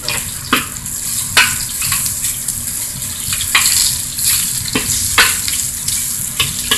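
Beef chow fun ingredients frying in a pan give a loud, steady close sizzle, broken by several sharp scrapes and clacks as they are stirred and spread out, with no talking.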